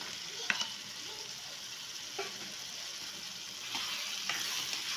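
Onion, tomato and garlic stir-fried in a pan, a steady close sizzle broken by a few sharp scrapes and clinks of the spoon as the mixture is turned.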